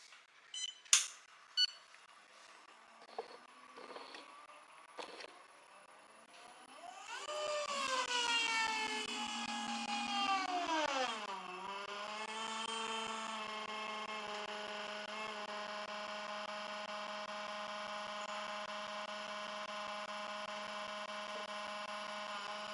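An espresso machine pulls a shot after a few faint clicks and taps. A quiet, steady pump hum starts, swells briefly, then settles into a constant drone.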